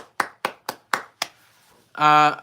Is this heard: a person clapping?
yes